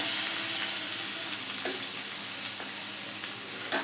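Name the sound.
pumpkin flowers frying in oil on low heat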